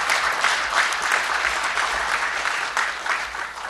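Sustained applause from the audience at a parliamentary suicide-prevention forum launch in the National Assembly, a dense, steady wash of many hands clapping that carries evenly through the whole stretch with no voices on top.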